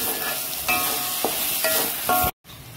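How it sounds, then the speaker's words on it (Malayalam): Ginger garlic paste sizzles with onions in a hot pan, a steady close frying hiss broken by several short scraping stirs of a spoon. "ഇനി ഇഞ്ചിയുടെയും വെളുത്തുള്ളിയുടെ ഒക്കെ ആ ഒരു പച്ച സ്മെല്ല് പോണ സമയം വരെ ഒന്ന് വഴറ്റിയെടുക്കാം"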